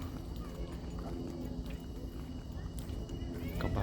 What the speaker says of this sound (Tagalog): Uy, kabayo.